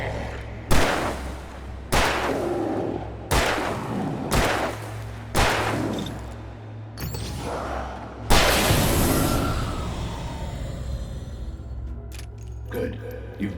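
Gunshots in Alan Wake Remastered, a series of loud single shots at roughly regular intervals followed by a bigger blast that rings out, with game music underneath.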